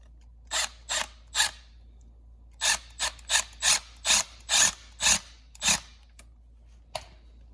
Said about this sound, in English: I'm gonna put a hose clamp on it.